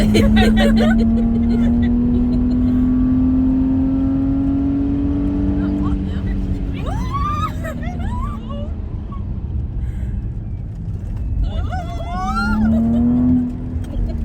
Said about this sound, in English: Tire squeal.